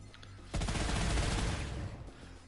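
A gun fires in Borderlands 3, a sudden burst of rapid automatic shots that is loud and dense for about a second and a half, then tails off into echo.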